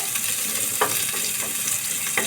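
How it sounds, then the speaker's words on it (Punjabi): Cumin seeds roast in a hot pan with a steady, close sizzle and crackle throughout, a few sharper pops standing out, with no talking. "ਇੱਕ ਚਮਚਾ ਜੀਰਾ ਇਹਨੂੰ ਆਪਾਂ ਹਲਕਾ ਜਿਹਾ ਭੁੰਨਾਂਗੇ ਤਾਂ ਕਿ ਇਹਦਾ ਕੱਚਾਪਨ ਨਿਕਲ ਜਾਵੇ"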